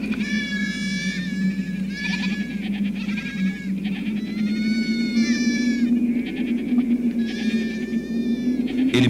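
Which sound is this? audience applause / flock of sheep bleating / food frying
flock of sheep bleating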